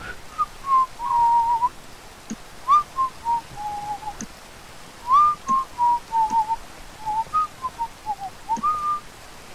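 A person whistles a light, wandering tune in short sliding phrases with brief pauses, clear and close, with no talking.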